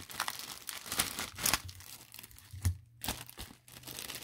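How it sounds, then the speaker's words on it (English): Close, quiet crinkling and rustling of resealable plastic bags being handled, in irregular bursts with brief pauses. "We got to get you some resealable bags like this, dude."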